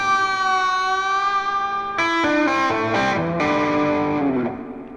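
A distorted electric guitar plays a slow pentatonic lick with hammer-ons and pull-offs, a long sustained bend giving way to a quick run of legato notes that fades at the end.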